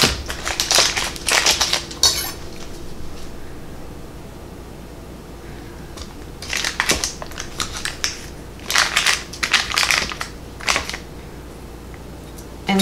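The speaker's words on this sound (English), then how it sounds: "we are going to cut each stick in half" Knife slicing sticks of cold butter lengthwise in a kitchen: several short crisp scraping, crunching bursts in uneven clusters, close up, with quieter pauses between cuts and no talk.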